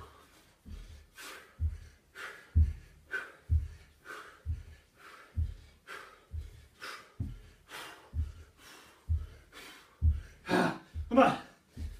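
Heavy, rhythmic breathing during a low-impact home HIIT workout, a dozen or so sharp gasping breaths at a steady pace, close and fairly loud, growing quicker toward the end.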